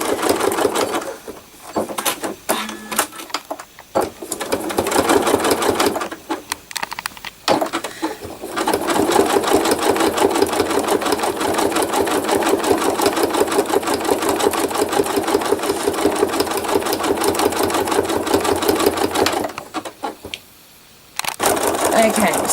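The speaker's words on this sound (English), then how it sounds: "I'm doing a straight stitch now to do the sky." A sewing machine runs in long bursts of fast, even stitching on thread art, a close mechanical whirr and patter that stops briefly a few times between runs.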